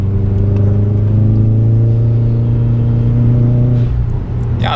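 Subaru engine revving hard while climbing a hill, a loud droning rise in pitch held for several seconds, then easing off with a brief hiss of the turbo blow-off valve near the end.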